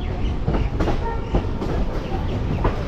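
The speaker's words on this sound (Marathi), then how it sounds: "आपली नवी दिल्लीमधून ट्रेन हललेली आहे" A passenger train rolling out of New Delhi, heard from on board: a loud, continuous rumble with a rhythmic clickety-clack of wheels over rail joints.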